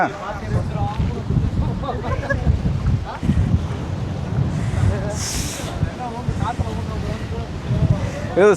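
Strong wind buffets the microphone in continuous gusts at a beach near Chennai while people talk nearby, with a roaring outdoor rush underneath.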